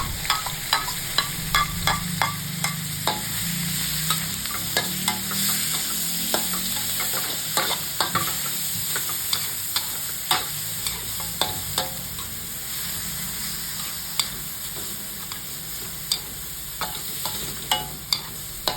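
Minced pork with garlic being stir-fried in a pan, a steady close sizzle with frequent sharp clicks of a spatula scraping and stirring, no talking over it.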